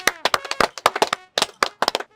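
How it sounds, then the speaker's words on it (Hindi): A small group claps for a tailor in brief, uneven bursts of sharp hand claps, close and fairly loud, with short pauses between them. "अरे भाई इनके लिए ताली बजाओ।"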